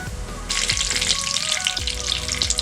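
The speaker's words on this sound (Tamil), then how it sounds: "காஞ்ச மிளகாய் நல்லா பொரிஞ்சிருச்சு." Mustard seeds and a dried red chili fry in hot sesame oil, a sharp sizzle bursting in after a quiet moment and then holding steady with small crackles, no voices.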